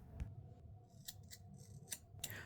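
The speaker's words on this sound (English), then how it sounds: "then go ahead and cut that hair" Scissors snipping through locs, a few sharp close cuts spaced irregularly, with quiet room tone and no talking.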